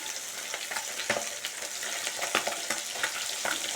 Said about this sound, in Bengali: লঙ্কা গুঁড়ো দিয়ে বাটা মাছ ভাজা